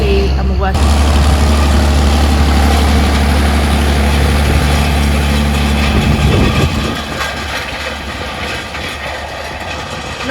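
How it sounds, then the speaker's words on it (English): John Deere 4955 and 4455 tractors idle close by with a loud, steady diesel drone and low throbbing rumble. The sound eases slightly toward the end. "Now we've had a little listen to the proper tractors."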